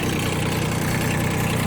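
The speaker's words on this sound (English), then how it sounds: "The engine is now running." A Kubota B6200 compact tractor's diesel engine idles steadily, a loud, close, continuous rumble with an even chugging vibration and no pauses.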